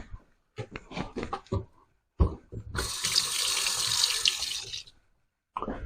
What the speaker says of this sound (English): I'm going to strain this directly in to this pot